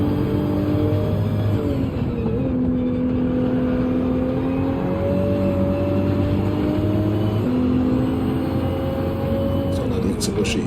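Race car engine in the Gran Turismo 7 racing game on PS5, a steady loud drone with pitch rising and shifting through gear changes, continuous throughout with speech-like overlay.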